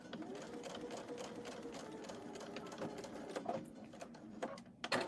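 A domestic sewing machine stitches a zipper onto a patchwork pouch with a lining, a steady continuous whirring hum of the needle running close and clear, with brief pauses near the end.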